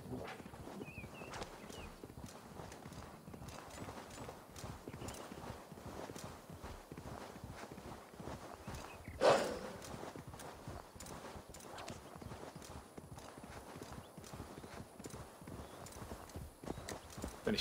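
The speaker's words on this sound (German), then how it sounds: "Jetzt reiten wir wirklich hin." A horse ridden in the video game Assassin's Creed Valhalla clip-clops in a steady, rhythmic walking gait throughout, fairly quiet with a brief louder knock midway.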